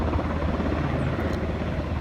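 A helicopter flies over St. John in the aftermath of Hurricane Irma, a loud, steady rotor roar that fills the air close by without letup, with no one talking over it.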